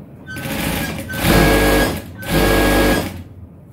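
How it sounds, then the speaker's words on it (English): An electric sewing machine stitching fabric for a male boxer runs in two steady bursts, each a loud continuous whir lasting about a second, with quieter motor hum between and around them. "Okay, so I'll go ahead and sew."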